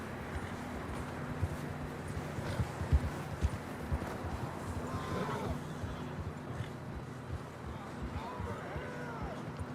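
Horses' hooves clip-clop at a steady walking pace in the Red Dead Redemption 2 video game, close and moderately loud, with voices speaking over them.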